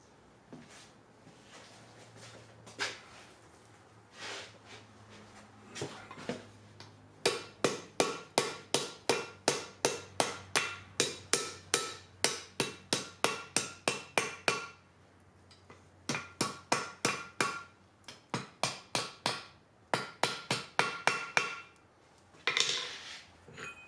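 A forging hammer strikes metal in long rhythmic runs of sharp, ringing blows, with brief pauses between bursts, close and loud with no talk over it.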